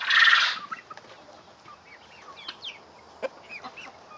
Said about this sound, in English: See, that old rooster's happy. He draws the hens over to him.